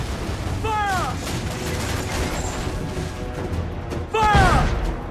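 Ship cannon fire in the pirate video game Assassin's Creed IV Black Flag: two loud booming volleys about three seconds apart, each with whistling shot, over constant sea and battle noise.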